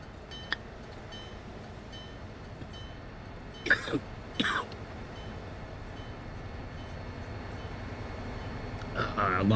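A locomotive in the Train Sim World video game lets out a cough: two short, rasping bursts in the middle, with another rising at the end over a steady low rumble of the running train.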